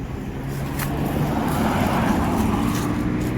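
Road traffic in the aftermath of Hurricane Beryl, a steady broad rumble of passing cars and heavier vehicles rising slightly and holding, with no voices.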